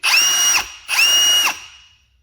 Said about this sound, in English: Definitely got a whiny type of a motor, but it's Ryobi.